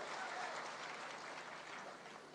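Audience applause at a public speech by a minister on three new criminal laws in India, a steady broadband clapping wash that stays loud throughout and fades slightly toward the end, with no voice over it.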